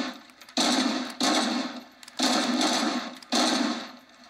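Gunfire from the Robocop Rogue City video game, four loud, close bursts of rapid shots, each about half a second to a second long, separated by brief pauses.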